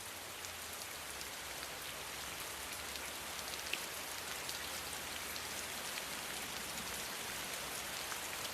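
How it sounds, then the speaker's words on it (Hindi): Heavy rain falling outside, a steady, dense hiss of drops on surfaces that fills the whole stretch evenly with no voices. "बाहर बहुत बारिश है"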